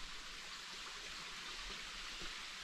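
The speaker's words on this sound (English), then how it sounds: "You're across over here, this waterfall." Waterfall beside the Foothills Trail near Bald Knob, heard as a soft, steady hiss of rushing water that stays even throughout, fairly faint and with no talking.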